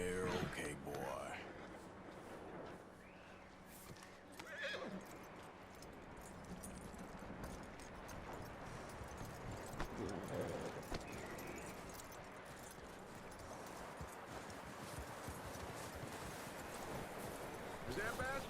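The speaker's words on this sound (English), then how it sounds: "That looks like a decent horse." Horse hooves clip-clop steadily in Red Dead Redemption 2, a continuous close rhythm of hoofbeats over a background of ambient game sound, with faint voices speaking at points.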